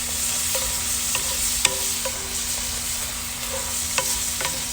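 A tablespoon of butter sizzles in a cast iron pan set on a grill, a steady close hiss broken by scattered small pops and spits, with no voices.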